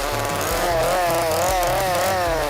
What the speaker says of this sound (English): One of the most terrifying props you can use is a real chainsaw.